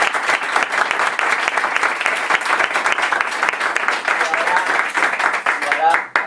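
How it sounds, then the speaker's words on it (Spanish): A conference audience breaks into loud, sustained applause, dense clapping continuing steadily for about six seconds with crowd noise and no clear speech on top. "quiero que le deis un gran aplauso"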